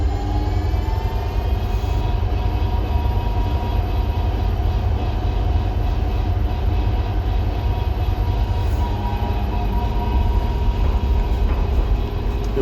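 Parkshuttle automated people mover cruising toward its Rivium 4e Straat terminus, a steady, loud low rumble of running gear and wheels with a faint tonal whine, continuous throughout with no talking.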